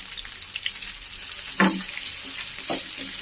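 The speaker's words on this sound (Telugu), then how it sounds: "కాస్త పచ్చిమిర్చి, అలాగే ఎర్రగడ్డలు వేసి ఇలా మంచిగా వేపుకోవాలి" Green chillies and onions frying in a pan of curry leaves, a steady close sizzle with a louder burst as the ingredients are stirred, then a second spatter a moment later.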